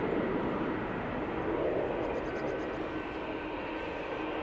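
Boeing 737 MAX 8 jet on its takeoff roll at Manchester Airport, a steady, loud, broadband engine roar that holds constant throughout with no talk over it.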